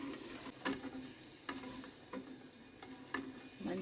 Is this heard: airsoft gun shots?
no